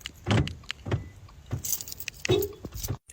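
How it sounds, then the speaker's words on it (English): A car's doors locking from inside, heard from the back seat: a series of four or five dull mechanical clunks and clicks spaced about half a second apart, fairly close and otherwise quiet. "Now I lock my car so nobody can get me."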